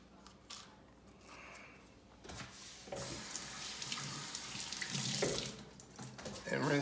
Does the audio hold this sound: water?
yes